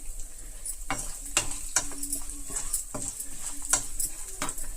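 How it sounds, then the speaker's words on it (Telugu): Peanuts fry in hot oil in a pan for tempering, a continuous close sizzle broken by repeated scraping stirs and light crackles, fairly loud with no talk. "పల్లీలు కూడా మొట్టమొదట వేసుకోవడం వల్ల చాలా చక్కగా ఫ్రై అవుతాయి"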